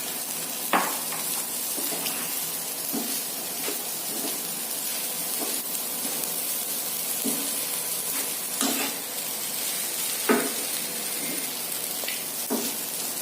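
Grated coconut stirred into rice flakes (aval) in a frying pan, with repeated scraping strokes every second or two over a steady, soft hiss, close and moderately loud with no talking.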